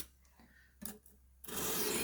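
Knife edge ground on a WorkSharp 220 grit diamond stone, a dry rasping scrape in a few separate strokes, the last one louder and longer, with no talk.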